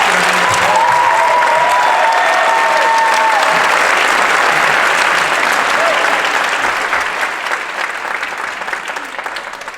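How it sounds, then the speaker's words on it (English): Audience at a school Christmas concert applauds, a loud sustained wash of clapping with a few brief cheers and voices in the room, gradually thinning toward the end. "applause for Mr. Wright"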